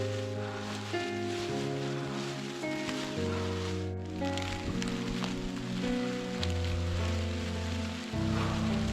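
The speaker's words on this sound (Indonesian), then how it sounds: "Angin berembus makin kencang dan hujan terus turun semakin deras" Steady hiss of heavy rain pouring down in strengthening wind on a mountain trail on Mount Lawu, heard under sustained music that shifts chords every few seconds.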